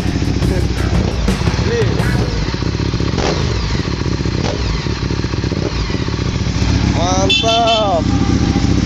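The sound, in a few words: Ducati Diavel 1198cc motorcycle engine starting and running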